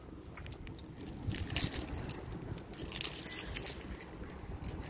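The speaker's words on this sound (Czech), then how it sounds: "Toto jsou klíče." A bunch of car keys jangles and clinks near the microphone for several seconds in uneven bursts, with no talk.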